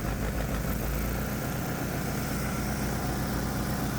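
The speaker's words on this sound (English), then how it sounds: "Let me give the engine some throttle." A 212cc Predator small engine fitted with a simple homemade fuel injection system runs under throttle, giving off a steady, fairly quiet mechanical roar that stays constant throughout.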